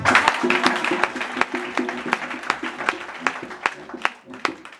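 A church congregation claps in steady rhythm and cheers for Jesus, the sharp hand claps beating over music and voices throughout.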